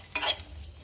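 Green chillies and garlic are sautéed in a pan, heard as one short burst of stirring and sizzling that quickly fades into a quiet hum.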